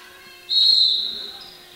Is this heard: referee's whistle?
yes